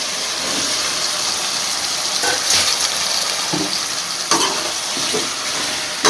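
Mushrooms fry with curry leaves and softened tomato in a pan, producing a loud, steady close sizzle with occasional stirring scrapes and knocks on top.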